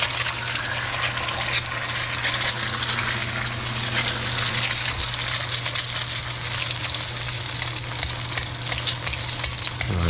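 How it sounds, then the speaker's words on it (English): Eggs frying in a good amount of hot oil for Thai basil pork, a loud, steady crackling sizzle with splashing oil that continues without a break, close up and with no talk over it. "Kind of splash the oil, splash the oil, splash the oil, splash the oil."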